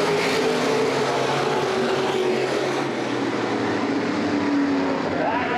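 Open-wheel modified race cars at Baer Field Speedway roar on a restart, a loud, dense wall of engines accelerating together, with a rising whine from one car near the end and a commentator talking over the noise.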